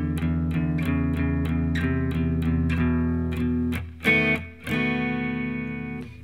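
Electric guitar plays a short blues turnaround: a string of evenly picked notes descending, then a few ringing chords closing the phrase, played alone.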